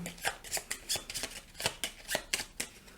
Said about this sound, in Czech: Co nám zbývá, tak je akorát zamíchat plot karty